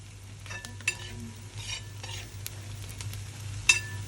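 A beef dish stirred in a hot pan, soft scraping strokes and the clink of a utensil over a quiet steady sizzle, with one sharper knock near the end.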